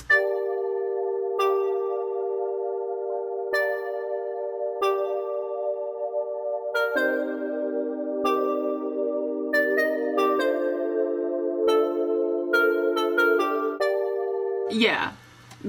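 Gentle Petite, a soft bell-like keys instrument in a chill trap RnB beat, plays a steady melodic line of chiming notes with sustained chords underneath, fairly loud and continuous, ending in a brief noisy burst.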